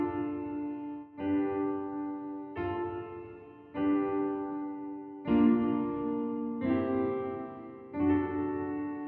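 Sustained piano chords from Ocarina of Time's Serenade of Water ring out one after another, each struck cleanly and left to decay, about seven changes at an unhurried pace.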